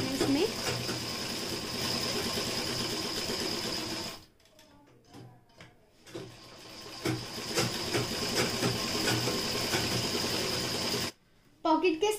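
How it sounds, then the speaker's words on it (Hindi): A sewing machine stitches a side pocket onto a kameez in fast, steady runs of rapid mechanical whirring, stopping twice for short pauses, close and clear with someone speaking over it. "यहाँ पर से हम सिलाई लगाना स्टार्ट करेंगे और पूरे में गुलाई में सिलाई लगा लेंगे"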